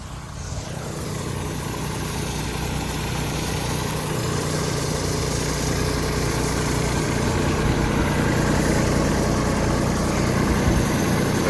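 Tractor engine running steadily nearby during village wheat threshing, a loud continuous drone that builds slightly and holds, no talk heard.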